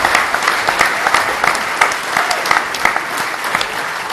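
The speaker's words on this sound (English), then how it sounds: "can we please give a round of applause for all our speakers here?" Audience applause for the speakers at a farewell event for a coach, a steady patter of many hands clapping at close range for about four seconds, with no voices over it.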